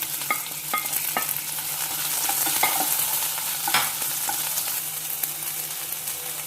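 Sliced onion frying in a pan for a Mangalorean chicken pulimunchi, a steady close sizzle broken by repeated scrapes and clinks of a spoon stirring.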